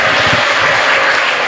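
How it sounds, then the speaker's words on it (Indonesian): Loud, close audience applause at an Islamic religious lecture, dense continuous clapping filling the whole short stretch. "Kasih tepuk tangan sekali lagi Santri Putra."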